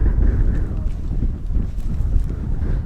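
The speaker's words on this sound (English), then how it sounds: "It's getting a little bit breezy up here" Breezy wind buffets the microphone outdoors up high, a steady, loud, low rumbling roar that continues throughout without pause.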